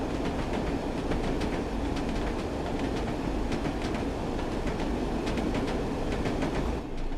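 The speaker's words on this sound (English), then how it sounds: "Loving the clickety-click noise as well." Class 101 diesel multiple unit running over old jointed rails on the Peak Forest route in Train Sim World 3, with a steady rolling rumble and repeated clickety-clack wheel beats over rail joints, close and continuous, no talking.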